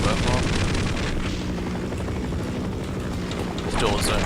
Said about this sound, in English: This helicopter just spins in a circle.